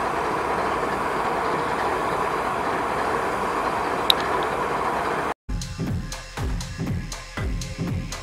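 A constant low rumble of a moving train, then rhythmic clattering of wheels over rail joints, repeating at a steady pace.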